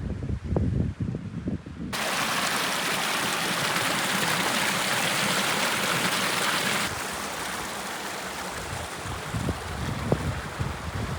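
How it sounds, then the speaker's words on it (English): A small mountain stream runs on a Scottish Highland hillside, a close, loud broadband rush of flowing water that swells and stays steady, with some rustling and handling noise at the start and end. "I have to cross this little stream."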